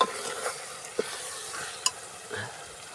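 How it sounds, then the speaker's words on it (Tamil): Ginger sautés in a pan for a chicken masala curry, a soft, low sizzle with a few sharp spoon taps against the pan, fairly quiet and without speech. "இஞ்சி போட்டால் நல்லா வதங்கிடும் நல்லா வதங்கிருச்சுங்க"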